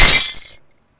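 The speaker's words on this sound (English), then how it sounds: "just hearing like that little tinkle of glass" Glass smashes loudly in a video game, a bright crash that trails into a brief tinkling scatter of shards and then cuts to silence.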